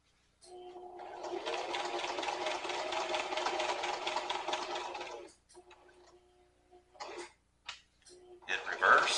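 Sewing machine stitching a leather wallet, a steady fast rhythmic whirring run of about five seconds, then short stop-start bursts of stitching close by.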